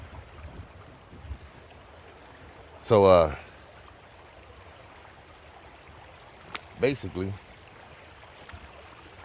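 Creek water flows steadily on a morning walk, a soft continuous rushing wash in the background, with someone speaking briefly twice over it.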